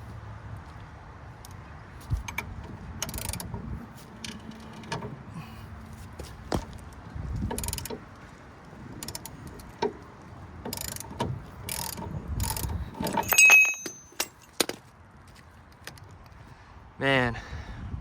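A ratchet tightens a bolt in the steering gearbox area of a '64 El Camino, with bursts of quick clicking strokes between pauses, plus metallic clanks and knocks close by.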